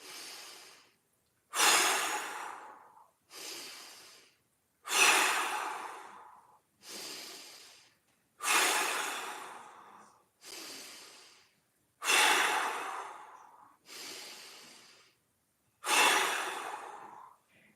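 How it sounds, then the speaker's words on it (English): Big deep breaths taken during a half-kneeling mobility stretch, about ten slow, loud inhale-exhale cycles in a steady rhythm, close and alone with no talking. "We've got 5 big breaths."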